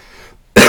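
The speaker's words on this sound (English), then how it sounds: "I apologise if I cough in your ears" A single harsh, loud cough bursts out suddenly at close range from a speaker who has the flu. It follows a brief moment of quiet.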